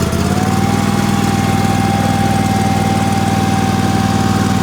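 A Dixie Chopper zero-turn mower engine runs steadily at a constant idle, loud and close, with an even drone throughout and no voices.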